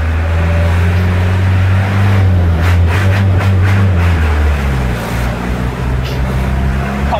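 A truck engine while driving, a loud steady low drone with a rising and falling pitch as the engine works, close and continuous from start to finish with no talking.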